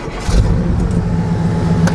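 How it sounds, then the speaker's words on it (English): A 1965 Chevy Impala's engine turns over and settles into a steady, loud rumbling idle nearby, with a faint voice briefly audible over it. "Let's start the engine again, and we're gonna see how it sounds on camera a little bit."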